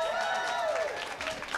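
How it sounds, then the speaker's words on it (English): An indoor audience at an indoor skydiving world cup competition claps and cheers, a dense, steady wash of applause throughout, with an announcer's voice faintly over it. "Give a big round of applause, ladies and gentlemen."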